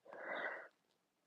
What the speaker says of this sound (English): there's another sneeze coming